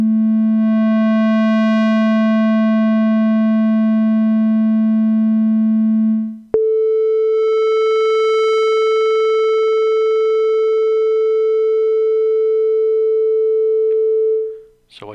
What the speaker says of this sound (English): What you hear is the sine wave from operator 1 by itself.